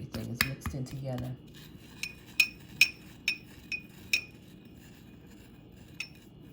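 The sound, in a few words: mixing a face mask in a bowl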